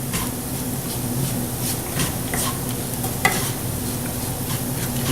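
A mixture frying in a pan sizzles steadily while being stirred, with soft scraping strokes and one sharp knock, close and continuous.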